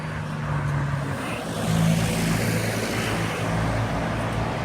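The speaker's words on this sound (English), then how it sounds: "And the cars do whiz by." Cars whiz past on a city street near the Mueller area of Austin, a steady traffic rumble swelling as a vehicle passes close, with no talk.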